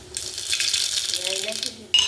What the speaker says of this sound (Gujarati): તેલ આવી જાય એટલે જો હવે રાઈ નાખી દીધી.